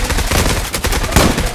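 M4A1 rifle fire in the online shooter Zula rattles in a rapid, loud automatic burst, dense shots running nearly continuously over a short span with no talk.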